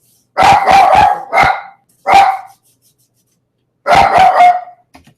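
A single dog barks loudly and close by in sharp clusters: a quick run of three or four barks, a lone bark, then another rapid burst after a silent pause.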